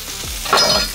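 Onions frying in a pan give a loud, close, continuous sizzle over one short second, with a brief scrape or stir partway through.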